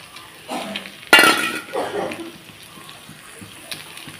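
Two eggs cracked into a hot pan beside cooked onion stalks: a sudden loud sizzle bursts out after some soft clinks, then fades into quieter frying and faint utensil taps, close by, with a voice briefly speaking.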